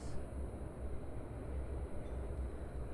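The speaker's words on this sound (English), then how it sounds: "That's a train going by, that noise." A train passes in the distance, a steady low rumble and rolling rail noise held evenly throughout, with no talk over it.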